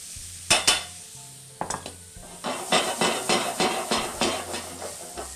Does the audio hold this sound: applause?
no